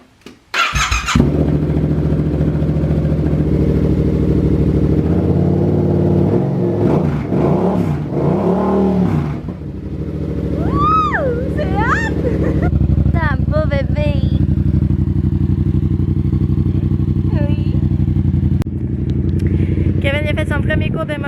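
A Yamaha FZ-07 700 cc motorcycle engine runs loud and steady close by, its pitch rising and falling in a few revs, while people talk over it.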